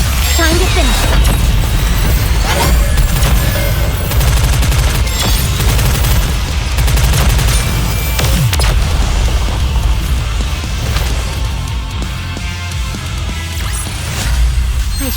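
Heavy artillery bombardment and gunfire in the game Goddess of Victory: Nikke form a dense, continuous roar of booms and rapid shots that stays loud throughout, with music in the mix.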